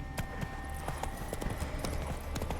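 Geralt's horse Roach gallops through Novigrad in The Witcher 3, her hooves clip-clopping in a quick, steady rhythm. The sound is fairly faint and plays alone, with no talk.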